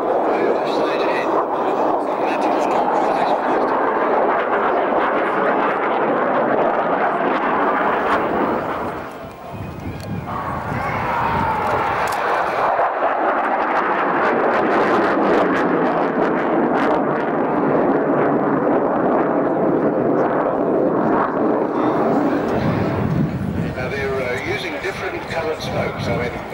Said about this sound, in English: The business of dogfighting has moved a stage ahead.